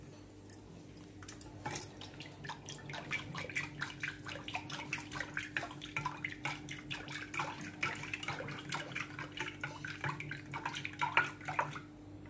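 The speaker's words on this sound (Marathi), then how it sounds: "ताक करण्यासाठी थोडंसं पाणी घालते" Water trickles into thick curd to make buttermilk, a faint close stream of small splashes and drips over a low steady hum, with no voices.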